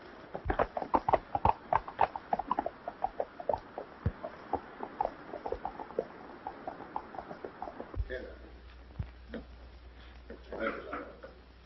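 Horse hooves clip-clop in a steady trotting rhythm, fairly close, with a voice talking over them before the hoofbeats fade.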